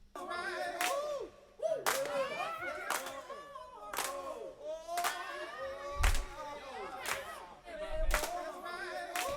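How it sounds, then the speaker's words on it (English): Loud, crisp handclaps strike roughly once every second in a steady party rhythm, layered over melodic sung vocals and music from a song track. "this one's the clap track, the party track"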